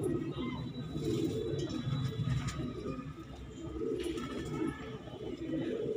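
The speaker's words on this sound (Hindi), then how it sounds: "देख लो जी माशाल्लाह कबूतर सारे लाजवाब।" Low throaty cooing from a group of pigeons offered for sale in Delhi, repeating in soft overlapping phrases close by over a constant hum of background noise, with no voices.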